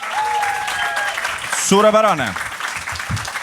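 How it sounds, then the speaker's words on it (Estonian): An audience applauds steadily and densely through the whole stretch at an event, while a speaker's voice talks over it. "Teeme suure aplausi CV.ee-le."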